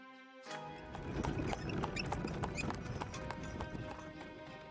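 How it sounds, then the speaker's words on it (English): Carriage wheels and horse hooves clattering on cobbles in a yard in a narrative video game, a quiet, steady clip-clop with rolling wheel rumble and a faint whinny at mid distance, heard alone. "You hear the sound of wheels and hooves against the cobbles in the yard"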